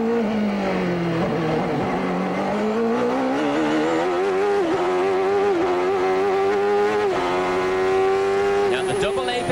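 A 1993 CART race car roars from an onboard camera at Portland, its engine note rising and falling with throttle and gear changes while a commentator talks over it.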